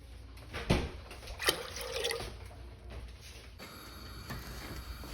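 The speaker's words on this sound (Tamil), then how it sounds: "நாலு டம்ளர் தண்ணி ஊற்றிருக்கேன்." Water poured into a pressure cooker holding chana dal, a short splashing pour with a couple of sharper splashes early on, then a steadier trickle that fades to a faint background hiss.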